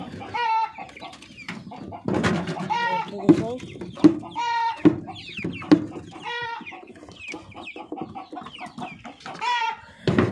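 Chickens clucking in a backyard coop with a rooster calling out, repeated loud sharp squawks and clucks in bursts over about ten seconds, close by.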